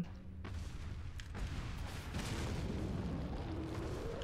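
A rocket launcher fires in Resident Evil 4, giving a loud broadband blast that rolls into a sustained, rumbling roar lasting several seconds, with no voices over it.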